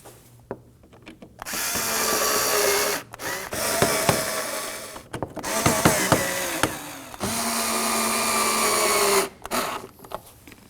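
A power tool drives four Phillips screws into the front bumper of a 2016-2020 Kia Sorento, with about four separate whirring bursts, each lasting a second or two and separated by short pauses, heard up close.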